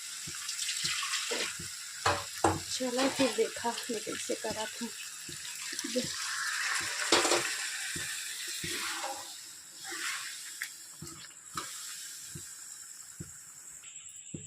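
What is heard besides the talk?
water poured into chicken curry in a pot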